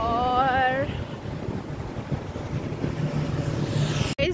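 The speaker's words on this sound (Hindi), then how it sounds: "अभी हम आ गए हैं वाटर के पास और सामने ही वाटरफॉल है" A waterfall in Cambridge, Canada gives a steady, broad rushing roar, mixed with wind buffeting on the microphone; a voice speaks briefly at the start.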